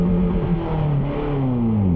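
A motorcycle engine revs nearby, its pitch rising and falling in a continuous rumbling growl.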